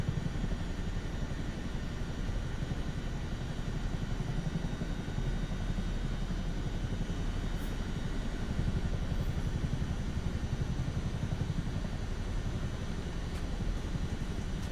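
Helicopter engine and rotor in a flight simulator game, a steady low droning whir with a dense rumble that holds at an even level throughout, with no talking.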